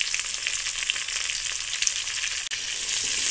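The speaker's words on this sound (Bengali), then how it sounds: "পেঁয়াজ আর লঙ্কা লাল লাল করে ভেজে নিচ্ছি" Onion and green chilli frying in hot oil in a pan, a dense, even hiss and crackle that stays close and steady, with one brief dip near the middle.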